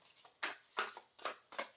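Tarot cards being shuffled by hand, four soft papery riffling bursts in a quick, even rhythm, close and quiet with no talk.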